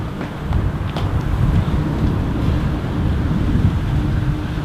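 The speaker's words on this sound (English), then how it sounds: "windy day here in London, as always" Wind gusts across a garden in London, a steady, loud rumbling buffet against the microphone that swells and eases with no clear breaks and no voices.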